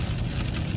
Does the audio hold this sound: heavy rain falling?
yes